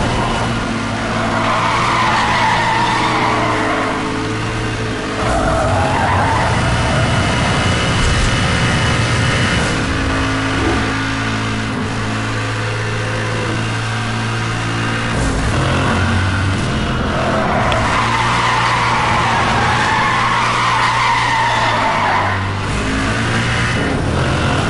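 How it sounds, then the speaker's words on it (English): A race car engine roars and revs continuously while tires skid and squeal loudly in Need for Speed Hot Pursuit Remastered, the pitch rising and falling through repeated slides, with no voices. "hear the sound of that engine, man."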